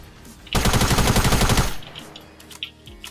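A submachine gun fires in the video game Fortnite: a rapid, loud burst of about a second with dense, evenly spaced shots, followed by a few scattered game effects.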